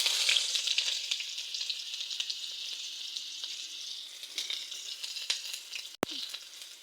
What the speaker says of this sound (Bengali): এখন আমি দুটো পেঁয়াজ কুচি অ্যাড করে দিচ্ছি।